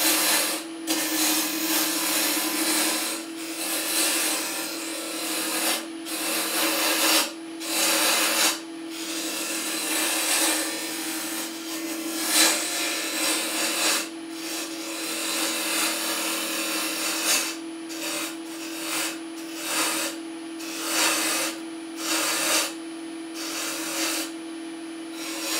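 A round carbide cutter shaving pear wood on a spinning lathe for a candlestick, giving a steady loud rasping hiss over a constant motor hum, broken by short pauses as the tool lifts off and returns.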